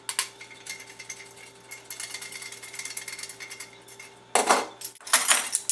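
A hand sifter works a teaspoon of baking powder in a kitchen, giving steady metallic scraping and rattling that runs for several seconds, then two louder clanking bursts near the end.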